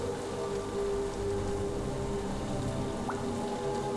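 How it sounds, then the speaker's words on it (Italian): Rain patters steadily inside a well in the video game The Lion's Song, a constant hissing wash with a low tonal hum beneath and one brief rising blip. "Pioggia."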